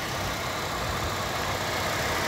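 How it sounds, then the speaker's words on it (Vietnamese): A 2008 Toyota Innova V automatic, with a longitudinally mounted engine and electronic fuel injection, idles smoothly at close range, a steady, even hum with no talking over it. "Nhưng máy nổ rất là êm."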